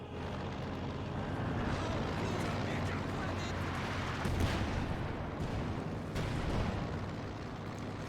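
Constant dense gunfire and booming artillery from the Company of Heroes 2 strategy game, with a heavier blast near the middle, rumble continuously beneath a commentator's voice.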